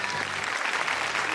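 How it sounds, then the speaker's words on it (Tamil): Dense audience applause fills the studio of a Tamil TV singing competition for children, a steady wash of clapping heard up close with no break. "செந்து அண்ட் ராஜிக்காக ஒரு பெரிய கைத்தட்டல் கொடுத்து நன்றி சொல்லிடலாம் மக்களே"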